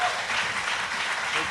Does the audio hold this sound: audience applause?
yes